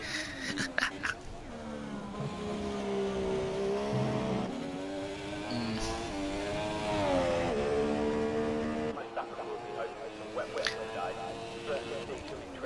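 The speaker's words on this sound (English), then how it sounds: "You can definitely just hear the cars." Race cars accelerating during a race, their engines rising in pitch through repeated gear climbs and dropping back at shifts, heard fairly clearly while a person talks over them.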